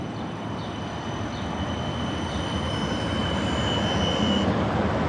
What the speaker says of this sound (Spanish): el tranvía circulando con vía doble sobre hierba